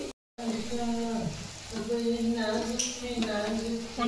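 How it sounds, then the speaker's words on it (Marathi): Food frying in a pan, turned until golden and crisp, gives a steady close sizzle with some stirring and faint voices underneath; a brief gap of silence comes near the start. "या पद्धतीने असे थोडा वेळ फ्राय होऊ द्यायचे"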